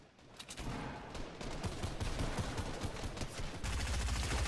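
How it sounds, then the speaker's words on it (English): Rapid gunfire from a Fortnite match, a dense, continuous clatter of shots with a loud burst near the end, no talk over it. "I did shoot him."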